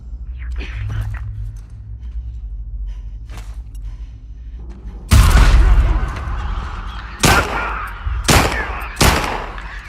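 Gunfire in The Last of Us Part 2: after a quieter stretch with a faint voice, a loud burst of shots erupts, followed by several more sharp separate gunshots at irregular intervals.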